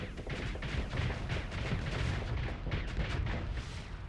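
Space combat in the video game Starsector, with missiles launching and blowing up in a dense, continuous barrage of booms and thuds, loud and steady, with no voices.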